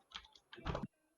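A brief, close run of computer keyboard typing comes as a few soft keystrokes followed by a denser cluster of clacks, then silence.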